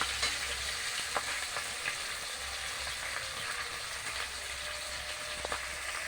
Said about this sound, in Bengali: মাছের মাথাটা হয়ে গেছে, আর একটু উল্টে দিচ্ছি।